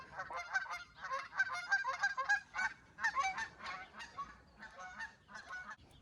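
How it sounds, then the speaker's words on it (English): A flock of geese honking on a sheep farm, repeated nasal calls overlapping in loud clustered bursts with short pauses between them. "I love those gooses."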